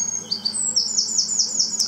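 A wren sings outdoors in the evening, a quick bright series of repeated high trilling notes, fairly close and clear over quiet background hum.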